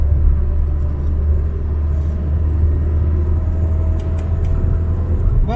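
An Austin Allegro under restoration drives along a road, its engine giving a steady loud low rumble with constant road noise throughout, heard from inside the car and joined near the end by a few faint clicks.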